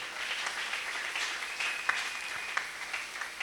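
A church congregation applauding during a service, a steady spread of many hands clapping at moderate distance, with a few sharper individual claps standing out.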